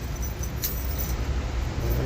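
Keys jangle close by in a rail yard at the end of a shift, a short soft metallic clinking over a steady low rumble of idling equipment.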